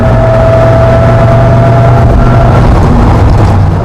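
A 2017 Dodge Viper's engine pulls hard under acceleration, a loud, continuous low rumble and roar with a steady tone, heard close from inside the car with no talking.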